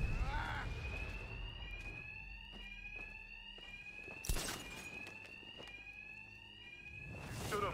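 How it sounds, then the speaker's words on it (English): Alarms ring inside a building in the Batman: Arkham Knight video game, a steady high electronic tone running throughout with repeated pulses, a sharp impact near the middle and faint background noise. "Just like the others, these thugs can't hear a thing over the alarms."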